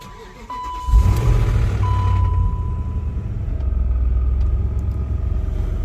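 A BMW X5 4.6is (E53, Dinan S1) starts and settles into a steady idle while warming up, its low engine rumble close and continuous, with a brief electronic chime early on.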